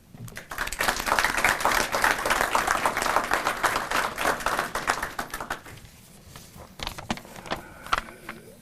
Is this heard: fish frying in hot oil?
no